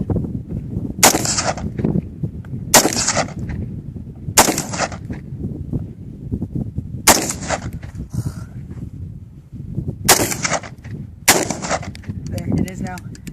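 Six sharp AR-15 rifle shots crack out at a shooting range, spaced roughly one to two seconds apart, each loud and close with a short ringing tail over a steady low rumble of wind and background noise.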